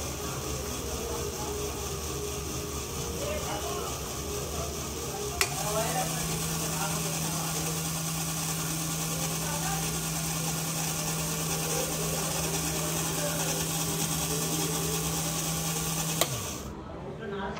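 A small 500 RPM DC motor with an encoder runs on an Arduino test bench, making a steady close electric whine. A low hum switches on with a click partway through, holds steady for about ten seconds, then cuts off with another click.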